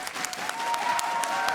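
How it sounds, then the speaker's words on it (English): Audience applause fills a battle arena at a League of Legends esports match, a steady wash of clapping from a crowd, fairly close and continuous, with a faint tonal hum running underneath. "I love the applause."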